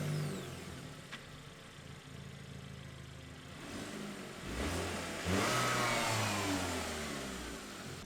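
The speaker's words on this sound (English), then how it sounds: "We're gonna start the car, give it a free rev, make sure, all the preload gets taken out" A Hyundai Elantra N engine, fitted with new engine mounts, idles faintly before being free-revved, rising to a louder, sustained rev about halfway through and holding there until the end.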